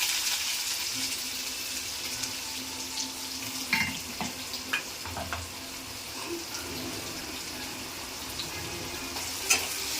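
Onions frying in oil with mustard seeds in a pan give a soft, even sizzle throughout, with a few small clinks and pops of stirring scattered on top.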